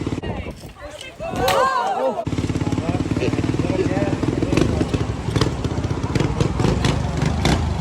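An XPRO 125cc pit bike engine being ridden by a rusty rider, a steady nearby buzzing drone with uneven throttle surges, heard alongside people talking.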